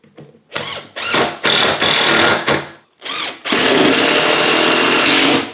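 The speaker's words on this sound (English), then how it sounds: "So I'm going to drill my new screw holes here," A power drill whirs in several short bursts with brief pauses while drilling screw holes in a mobile workbench, ending in one longer, louder run; close and loud, no talking.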